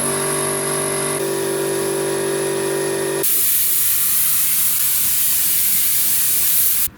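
A paint spray gun loaded with mixed paint and hardener sprays onto a motorcycle fuel tank, a loud, steady, close hiss that starts abruptly after a tonal whine and runs unbroken until cutting off at the end.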